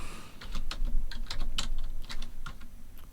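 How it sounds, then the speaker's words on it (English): Typing on a new computer keyboard, a quick, close series of crisp key clicks in an uneven rhythm that runs throughout the short stretch. "Sorry, I have a new keyboard"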